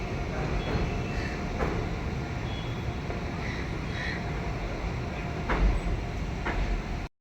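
Steady rumble and clatter of a Prayagraj to Delhi special train running, heard from aboard, continuous and fairly loud with occasional sharper knocks, no talking.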